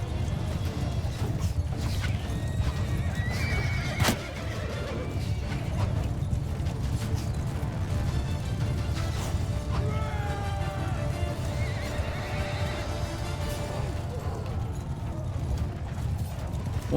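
Horses neigh and whinny amid the hoofbeats of galloping mounts during a Mount & Blade II Bannerlord battle, a steady, dense din of hooves and clashing combat running throughout with a few sharp whinnies rising over it.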